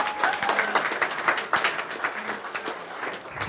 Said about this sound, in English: How about a round of applause for the Ingalls, for the Martins, for helping us put on this great event today?